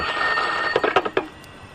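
A telephone bell rings in a Spanish radio drama, several short bursts of ringing clustered together over a steady background hiss, fairly close and clear, with no voices.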